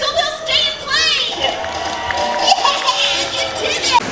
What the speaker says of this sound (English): everyone, please clap and cheer so they'll stay and play